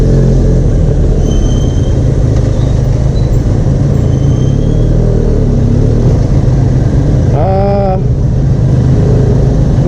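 A Benelli Leoncino 500 motorcycle engine drones loudly and steadily, close by, with a brief rising whine near the end as it pulls harder.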